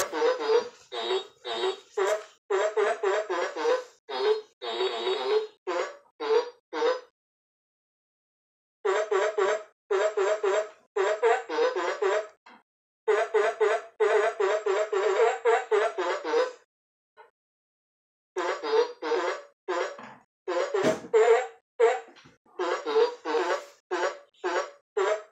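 An animated singing walrus toy plays a song through its small speaker, giving tinny, choppy bursts of melody with a few short pauses between phrases.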